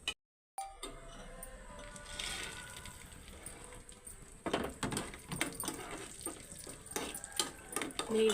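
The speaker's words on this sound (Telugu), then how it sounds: "సేమియాలోకి జీడిపప్పులు కిస్మిస్లు ఫ్రై చేస్తానండి." Cashews and raisins frying in homemade ghee for a semiya dish, giving a steady close sizzle with scattered clinks of a spoon against the pan that grow busier in the second half.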